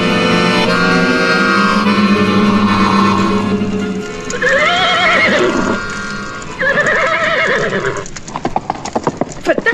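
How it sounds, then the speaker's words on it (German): A horse neighs loudly in an audio drama scene as it breaks loose, with two long shrill whinnies over busy hoofbeats and clatter, close and dominant, while a voice speaks over the start. "Das Pferd ist losgekommen, die alte Schindmähre!"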